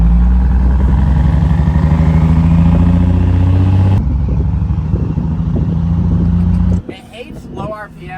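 A 1000HP 4th gen Cummins diesel pickup with a six-speed and huge turbo rumbles loudly in the cold under light throttle, a deep steady harmonic drone that cuts off sharply near the end, leaving quieter sounds.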